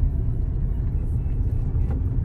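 A car moves off in second gear after slowing for a large speed breaker, giving a steady low engine rumble and road noise from inside the cabin, with no clear speech.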